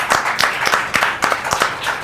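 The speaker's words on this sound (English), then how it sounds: "Round of applause." Round of applause from a small group during a Chicago recipe demonstration: several rhythmic bursts of close, fairly loud clapping.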